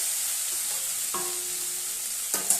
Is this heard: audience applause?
no